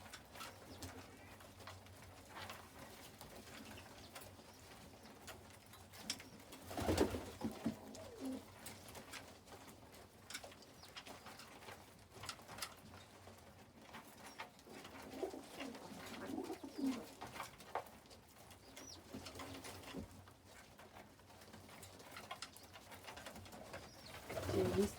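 Pigeons or doves coo softly from their nest amid faint background noise, the low repeated calls quiet and somewhat distant, with occasional brief handling sounds.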